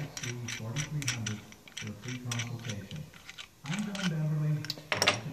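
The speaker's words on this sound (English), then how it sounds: "take your AN fitting and thread this part apart" An AN hose fitting is unthreaded by hand during a 6.0L LS engine build, giving a quick series of dry metallic clicks and ratcheting ticks that come in short bursts, close to the microphone, under someone talking.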